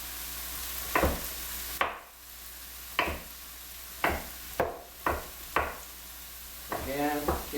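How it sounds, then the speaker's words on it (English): Paring knife chopping vegetables finely for a vegetarian pasta sauce, giving a series of sharp, close board taps at an uneven rhythm, about one per second, with no talk. "And start to chop fine."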